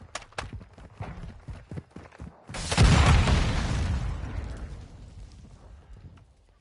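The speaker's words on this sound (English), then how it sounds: "set a charge on the target and detonate it" A detonated charge in a military video game goes off as one loud, broad boom that rolls and fades over several seconds, following a stretch of quieter clattering footsteps and handling noises.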